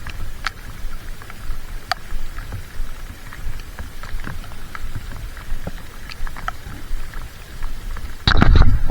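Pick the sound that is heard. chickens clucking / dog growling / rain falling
rain falling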